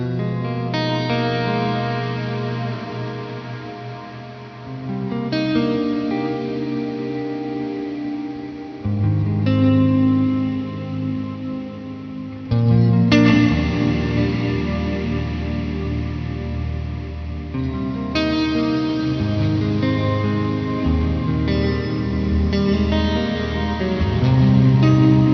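An electric guitar played through an ALABS Wave effects pedal, sustained chords washed in modulated, echoing ambient effect, loud and continuous with swelling changes every few seconds, no voices.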